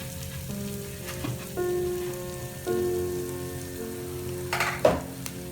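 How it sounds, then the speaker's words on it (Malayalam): Chopped onions frying with ginger-garlic paste in a clay pot for a chicken curry, a steady close sizzle and crackle with light stirring, no talking. "നമ്മൾ അരിഞ്ഞു വെച്ചിരിക്കുന്ന ഉള്ളി, സവോള ഇതെല്ലാം കൂടെ അതിലേക്ക് ഇട്ട് കൊടുക്കണം"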